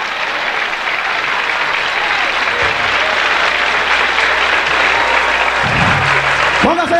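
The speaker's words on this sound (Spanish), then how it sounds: "Dale un aplauso a Cristo que él vive." Church congregation applauding during a Spanish-language worship service, a steady dense wash of clapping that fills the hall from start to finish, with a few voices calling out briefly underneath.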